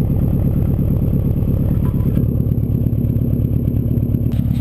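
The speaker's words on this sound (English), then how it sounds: "with the silencer, it is a lot quieter" A 2002 Subaru WRX wagon engine idles with an exhaust silencer fitted, a steady, muffled, rhythmic low burble that stays loud and close throughout, with no speech.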